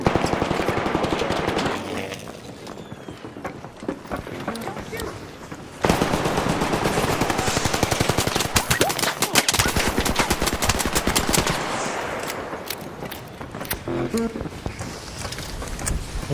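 Loud bursts of rapid machine-gun fire and gunshots ring out in long rattling volleys with a brief lull in the middle, dense and close throughout.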